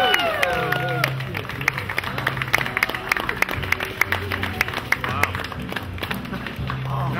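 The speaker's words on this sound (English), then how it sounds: "You guys should be clapping." Scattered clapping from a street crowd at a Mardi Gras 2005 street show, sharp claps repeating throughout under someone talking and some crowd noise.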